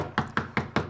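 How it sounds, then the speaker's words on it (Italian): Four crisp, evenly spaced knocks on a back door in a Peppa Pig cartoon, close and distinct within a second, with no voices. "c'è qualcuno che bussa sul retro"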